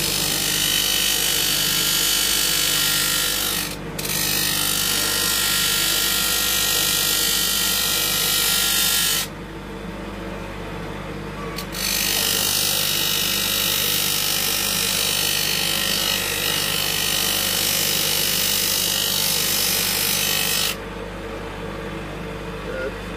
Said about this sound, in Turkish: Makinemizi çalıştırıyoruz. Satırımızı alıyoruz.